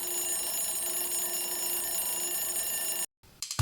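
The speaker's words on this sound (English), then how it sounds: "alarm clock." An alarm clock from a toddler read-aloud book about sounds rings in a steady, continuous bright tone that cuts out abruptly near the end, leaving a brief moment of silence before a short burst of another sound.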